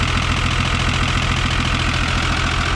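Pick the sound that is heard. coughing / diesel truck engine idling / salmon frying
diesel truck engine idling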